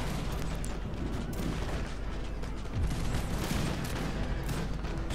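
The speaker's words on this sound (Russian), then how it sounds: "Так, пошла стрельба." Musket volleys crackle through a battle in Empire: Total War, with massed ragged gunfire and occasional heavier booms under a busy, continuous din.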